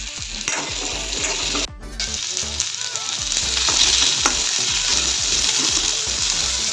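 Potatoes and squash frying in a pan, a loud continuous sizzle broken by repeated scraping strokes of stirring, with a brief dip partway through before the hiss swells again.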